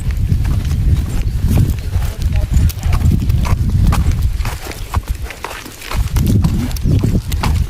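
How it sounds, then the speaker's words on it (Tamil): Cattle hooves clop steadily on a hard road as a herd walks past, close by, with people talking over the trampling. "மாடுகள் எல்லாமே இங்கே போகுது"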